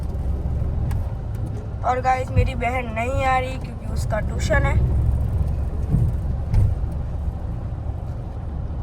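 A car rolls along a road on a rainy day, its low steady engine and tyre rumble running throughout beneath someone talking inside the vehicle.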